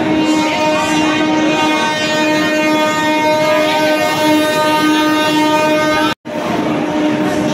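Indian Railways 12809 Mumbai–Howrah Mail standing at a station platform, with a loud, steady tonal hum and drone held throughout, briefly cut by a sharp gap near the end.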